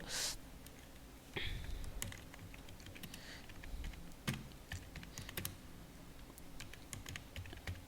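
Computer keyboard keys typed in irregular bursts of close, crisp clicks, with a short pause near the start, as a school name is entered into an Excel spreadsheet.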